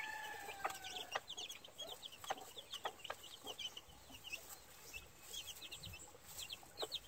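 A gamefowl hen and her chicks cluck and peep in a pen, a busy mix of sharp high chick chirps and occasional low clucks, moderately close and fairly quiet.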